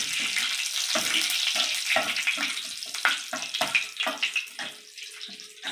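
Cinnamon, cumin and curry leaves crackle and sizzle in hot oil, a dense, hissing spatter that breaks into bursts of pops, close and fairly loud, with no voices.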